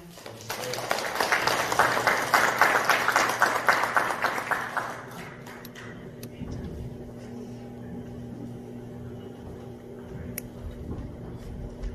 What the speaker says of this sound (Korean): 교수님은 큰 박수로 환영해 주시기 바랍니다.